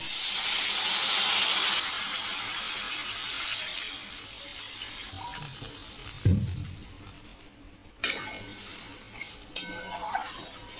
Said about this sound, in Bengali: আলু টমেটো ফ্রাই করে নিয়ে এবারে আমি এখানে জল অ্যাড করে দিচ্ছি